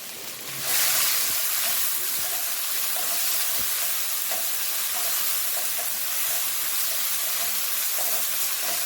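Ingredients sautéing in a hot pan for a Kerala fish curry meal, a steady loud sizzle and hiss that starts abruptly after a brief quiet moment and continues evenly, with faint scattered clicks of stirring and no talking.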